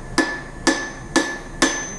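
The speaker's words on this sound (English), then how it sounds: "when you hit the proper spot in the center of the anvil, the hammer blows will actually add heat to your work" A blacksmith's hammer strikes hot steel on an anvil in four evenly spaced, loud ringing blows, each with a sharp metallic attack and a brief decaying ring, and no talking.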